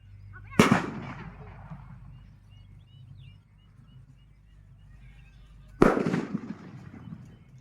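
Two sharp firecracker bangs several seconds apart in a paddy field, each with a brief crackling tail, over a low outdoor rumble.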